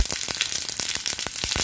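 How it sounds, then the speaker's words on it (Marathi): Cumin, mustard seeds, fennel, fenugreek and dried red chilies sizzling in hot oil for a tamarind chutney tempering, a dense close crackle with rapid bursts of popping seeds. "तेल तापले, तेलात टाकायची आपल्याला फोडणी"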